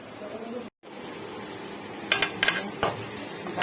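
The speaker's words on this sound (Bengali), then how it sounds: "গরম মশলা পাউডার দিয়ে এখন ভুনে নিচ্ছি" Chicken fried rice with garam masala and pepper frying in a pan, with a steady background sizzle and a few sharp clinks of a utensil against the pan near the end.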